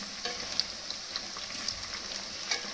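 Chili soybean chunks frying in a pan, a soft continuous sizzle with occasional small pops and light stirring, fairly quiet and without talk.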